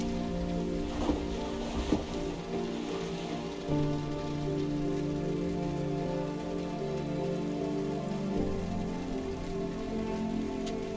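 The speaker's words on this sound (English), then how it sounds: "Let's wait out the rain in the booth." Steady rain patters on a surface in the video game Road 96, a constant soft hiss layered over low droning background tones, with no voices.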